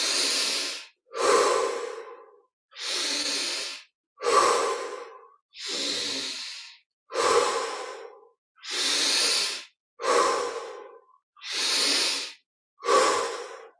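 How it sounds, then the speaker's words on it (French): Slow deep breathing exercise, ten or so long breaths in a steady rhythm, each an airy rush through the mouth, close to the microphone and separated by brief silences, with no talking. "Encore 10 respirations profondes,"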